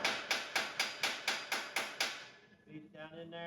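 A hammer pounds a hot weld in nine evenly spaced, ringing metallic blows, loud and close, before the strikes stop and fainter clanking follows.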